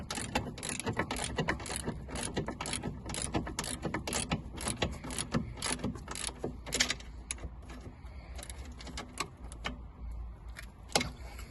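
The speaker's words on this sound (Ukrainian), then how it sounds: "Беремо ключ на 15 та нашу тріскачку на 14 і закручуємо тепер." A ratchet wrench tightens a rear stabilizer link nut on a Honda CR-V 2.0 petrol, giving rapid, close, repeated clicking bursts of the pawl with brief pauses between strokes.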